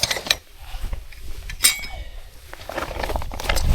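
A camping coffee maker and gas canister clink against each other inside a bike frame bag, with a few sharp metallic knocks and rustles of fabric up close amid outdoor background noise.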